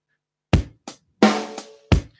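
Five separate drum hits spread over about two seconds, loud and dry with sharp attacks, a deep kick-like thump and a brighter, noisier snare-type crack, played as a slow, uneven beat with silence between the hits.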